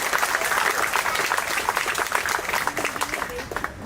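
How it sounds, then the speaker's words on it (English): Applause from the audience at an inaugural ceremony, many hands clapping in a dense, continuous patter that holds steady for several seconds before thinning slightly near the end. "a big round of applause to all of us."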